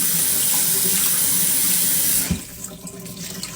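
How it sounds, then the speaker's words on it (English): Freshly picked blackberries washed under a running kitchen tap, a steady close rush of water that drops off partway through to softer splashing and dripping. "I'm going to wash them good and lifting them."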